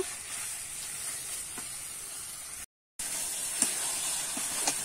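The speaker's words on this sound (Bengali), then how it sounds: "এবারে আবার একটু কিন্তু ভালো করে নাড়িয়ে চাড়িয়ে রান্না করে নেব" Banana flower curry with sugar stirred and cooking in a pan, a steady hissing sizzle with occasional soft scrapes, close and fairly quiet, briefly cut to silence midway, no voices.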